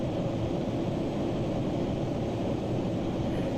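Steady broadband engine roar of a Boeing 737-800 in the Prepar3d flight simulator, a constant loud hum and rush with no change in pitch, heard alone.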